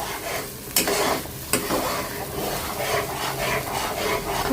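A paste of mustard seeds, cashew nuts and coconut is stirred and fried in a pan, with a steady close scraping and rubbing and a low sizzle, plus two sharp utensil knocks, and no voices.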